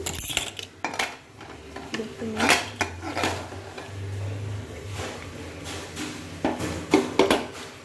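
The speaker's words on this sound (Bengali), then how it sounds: "এবার প্রেশার কুকারটা আমি খুলে ফেলছি।" A pressure cooker holding Basanti pulao is opened, with close metallic clanks, knocks and lid rattles scattered irregularly through the clip and a voice speaking briefly between them.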